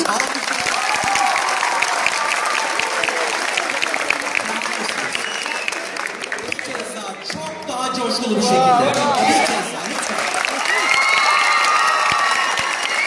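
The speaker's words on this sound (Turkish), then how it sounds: "Ben 3'ten geriye saydığımda kocaman alkışlayabilir miyiz hep beraber?" A studio audience at a Turkish TV show taping claps together in a big, full burst mixed with cheers and shouts, surging again midway, while voices call out over the noise.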